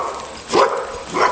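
A Malinois or Dutch Shepherd barks twice, a sharp nearby bark followed by a second one about half a second later, with no talk over it.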